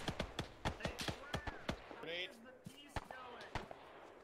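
Explosions and gunfire in a military shooter game: a string of sharp, loud bangs and cracks, some near and some farther off, with a burst of rumbling noise midway and voices talking over parts of it.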